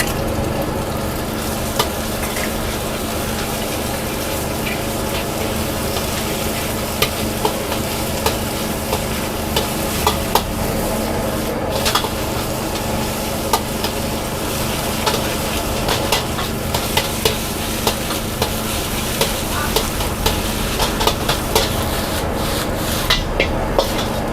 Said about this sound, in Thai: เดี๋ยวเราก็จะมาคั่วเส้นกับไข่กันก่อนเลยนะครับ ตามด้วยเส้นนะครับ